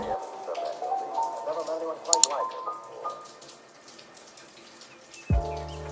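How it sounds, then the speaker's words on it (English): A spray bottle mists water onto natural hair in soft hissing bursts while wetting a section for detangling, heard under a voice talking, and then stops as the talking continues. "Apparently I didn't think this section was wet enough, so I'm wetting it again."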